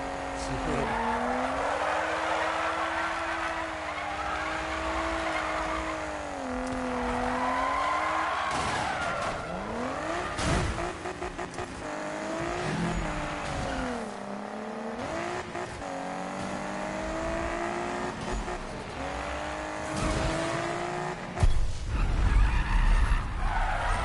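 Tires squeal and skid through drawn-out drifts in a PS4 racing game, the pitch sliding and wavering over a droning engine that revs up and down, with a louder burst near the end; someone talks over parts of it.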